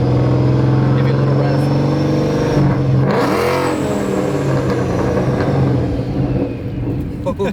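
A Paxton-supercharged S197 Ford Mustang engine idles with a deep rumble and then revs hard, the roar swelling and falling back near and loud, with someone talking excitedly over it.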